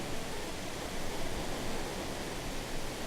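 Waterfall in the Final Fantasy VI video game, a steady, faint broadband rush of falling water that runs unchanged from start to end with no other sounds.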